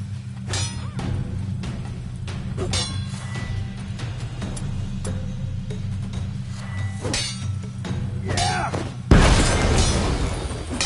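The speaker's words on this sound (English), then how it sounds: "Throw a bomb." Bomb explosion in The Witcher 3: Wild Hunt during a combat training fight, a sudden loud burst near the end after steady game sounds and rumble.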